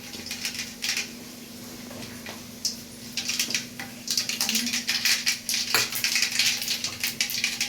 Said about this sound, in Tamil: இனி நம்ம கடுகு போட்டு தாளிக்கலாம்.